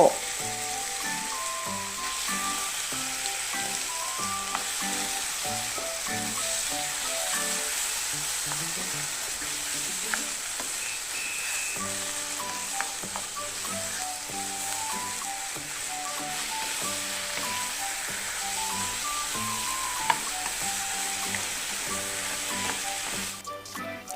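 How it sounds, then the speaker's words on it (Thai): Pork stir-frying in a hot pan for bibimbap, a loud, steady sizzle with stirring scrapes and clinks throughout, no talking. "เฮาก็จะเอาหมูที่เฮามักไว้ มาพัดให้สุกเลยเจ้า"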